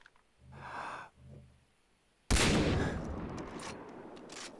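Gunfire from the shooter game Far Cry 3 breaks in suddenly and loudly after two heavy breaths, then holds as a dense, sustained roar of rapid shots against a tough, armored enemy.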